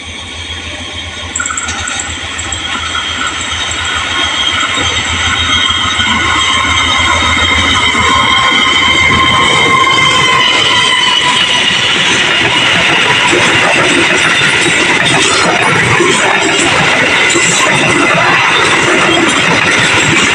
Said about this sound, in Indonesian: Ini ada kereta api lagi nih yang melintas.